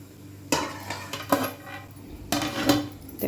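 Metal clinks of a lid set over a pot of steamed sago pearls, with a couple of sharp clatters separated by softer kitchen rattles.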